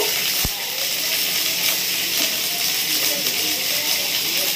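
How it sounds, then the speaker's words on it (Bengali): Paneer frying lightly in hot oil gives a loud, continuous close-up hiss and sizzle with a steady texture, broken only by a short sharp knock near the start. "পনিরটা একটু হালকা করে ভেজে নেব"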